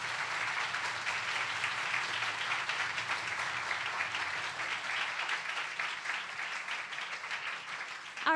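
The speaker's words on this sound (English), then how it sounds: "Let's give them a big round of applause." A sustained round of clapping from a large audience at a youth English public speaking contest in Hong Kong, steady and fairly loud, gradually thinning toward the end.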